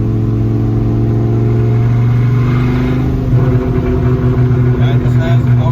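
A 1993 Dodge Viper RT/10 engine pulls hard under acceleration in third gear, a steady loud rumble heard from inside the car with a shift in pitch midway, while people talk over it.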